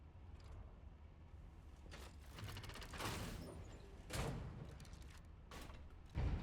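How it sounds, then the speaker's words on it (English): Creaking, ratcheting elevator machinery in the game Lies of P grinds steadily upward, with recurring clanks and louder mechanical thumps layered over a low rumble. "while the elevator is going up"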